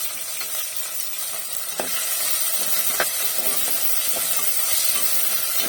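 Steady sizzling of onions and tomatoes frying in a pan, a continuous hiss with a few soft clicks of stirring, close and fairly loud.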